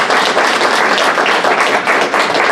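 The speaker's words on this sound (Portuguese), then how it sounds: "Uma salva de palmas para os candidatos." An audience at a conversation with candidates for a public defender's ombudsman post applauds, with dense, steady clapping from many hands filling the space without talk.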